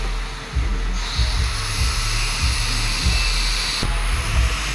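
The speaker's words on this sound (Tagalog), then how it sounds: "Concord backup blower ang ating ikakabit din eh." Concord backup blower running on a Toyota Hiace fogging unit, a steady loud whooshing airflow with low rumbling pulses underneath and a shift in tone partway through.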